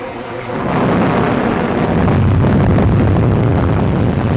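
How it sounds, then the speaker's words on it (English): Deep rolling thunder swells in after a quiet start and rumbles on loudly, a continuous storm roar with no voices. "Looks like a storm."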